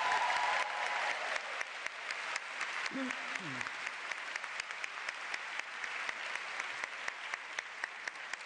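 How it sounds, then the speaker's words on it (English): Large assembly hall audience at a DAR Congress business session applauding newly elected Vice Presidents General, sustained many-handed clapping with a brief voice in the middle, continuing evenly for several seconds. "You may now applaud the newly elected Vice Presidents General."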